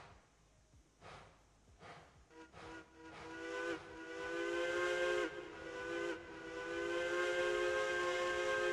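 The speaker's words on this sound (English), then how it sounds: "We learned we have a button now for the whistle, so gotta use it." Steam locomotive whistle in the train game Railroads Online: a few short hissing toots, then a long, loud, sustained chime-like blast with brief breaks, over faint background hiss.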